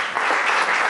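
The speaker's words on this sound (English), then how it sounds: "I think the three of you guys really deserve a very loud round of applause" An audience at an inspirational event claps loudly in a dense, continuous wash of applause, heard alone for a brief moment.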